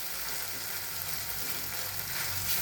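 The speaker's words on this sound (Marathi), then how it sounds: "आणि हलवून घ्यायची भाजी सगळी" Vegetables with tomatoes frying in a pan give a steady, even hiss of sizzling, fairly quiet and unbroken, with no distinct stirring strokes and no voices.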